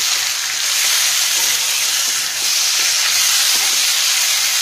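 Chopped tomato and green chilies frying in hot oil with fish head curry ingredients, a loud, dense, continuous hiss and sizzle close up that eases briefly midway, with no speech.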